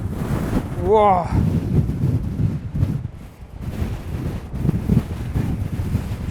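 Strong wind batters the microphone outdoors during a storm, producing loud, gusty buffeting that rises and falls throughout. A man briefly exclaims near the start.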